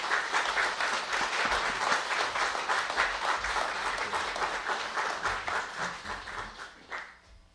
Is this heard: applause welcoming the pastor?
yes